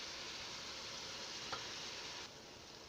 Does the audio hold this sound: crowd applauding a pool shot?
no